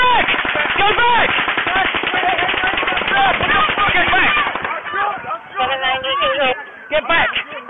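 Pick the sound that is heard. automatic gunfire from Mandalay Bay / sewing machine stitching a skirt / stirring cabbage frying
automatic gunfire from Mandalay Bay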